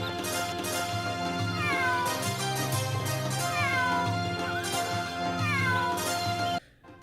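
A cat in the video game Suikoden V meows several times in clear, rising and falling cries over steady background game music that cuts off near the end.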